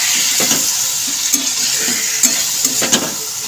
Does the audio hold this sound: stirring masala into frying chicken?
yes